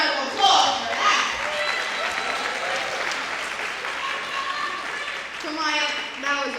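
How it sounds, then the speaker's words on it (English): Applause from a seated audience at a scholarship and awards ceremony following a tribute performance: even, moderately loud clapping throughout, with a voice speaking over it at the start and again toward the end. "Can we get another round of applause for that?"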